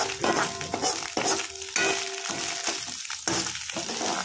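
Ingredients for Schezwan fried rice frying in oil in a pan over a raised flame, a steady close sizzle with repeated bursts and scrapes of stirring, no talk.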